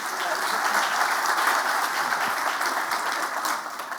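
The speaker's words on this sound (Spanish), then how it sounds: "El aplauso también es para ustedes." A crowd at a tribute ceremony for a Colombian football coach breaks into sustained applause, a thick, even roar of many clapping hands at steady loudness for the whole stretch.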